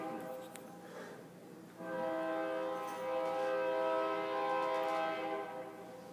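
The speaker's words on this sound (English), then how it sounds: "oh, that pesky train." A train horn sounds in a long steady sustained blast over the rumble of a passing train, heard from indoors at a moderate distance and nearly filling the clip.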